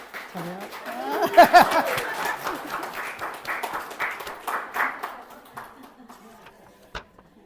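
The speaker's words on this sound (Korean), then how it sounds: "자, 다시 한번 축하의 박수 인사하고 들어가세요." A church congregation at a Sunday worship service claps in congratulation, a burst of applause that swells early, mixed with some voices and light laughter, then thins out and fades.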